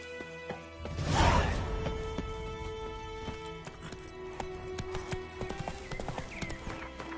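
Roach, a horse in the fantasy game The Witcher 3, clip-clops along with steady, close hoofbeats after a brief whooshing rush at the start. A faint whinny sounds near the end.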